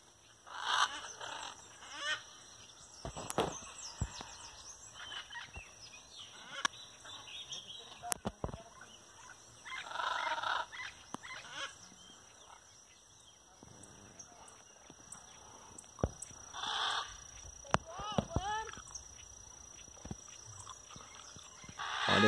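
Macaws at their roost in Buritizal forest, Mato Grosso, giving scattered loud harsh squawks from middle distance, with someone talking in between and occasional knocks.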